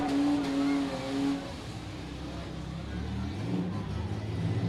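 Damaged race car at a Broome County Fair crash event backing up and revving unevenly, engine surging then dropping and rising again, with crowd and a voice faintly audible.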